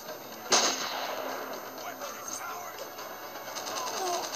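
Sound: gunshots in Spider-Man: Shattered Dimensions video game

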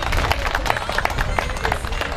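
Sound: audience applause at a festival

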